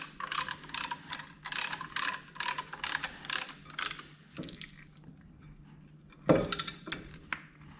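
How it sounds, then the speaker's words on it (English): A Lang ratcheting brake caliper compressor clicks through repeated rhythmic ratchet strokes while compressing a front caliper on a 2007-2018 Jeep Wrangler JK, close and crisp, then pauses before a final couple of metallic clunks. "Now what's nice about this guy is it ratchets. So you'll see just how easily it compresses them."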